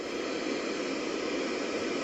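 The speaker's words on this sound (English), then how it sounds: "You guys got that static white noise?" Steady broadband static hiss from a white noise machine, continuous and even in loudness throughout, with no talking.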